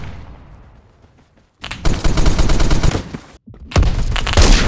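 Automatic weapon fire in the shooter game Phantom Forces: two sustained, loud rapid-fire bursts separated by short pauses, close and dominant, with no talking.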